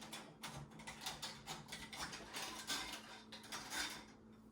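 Metal canning jar bands clink and rattle close by while being handled for pressure-canned beef stew, a steady run of light metallic taps and scrapes with no talk.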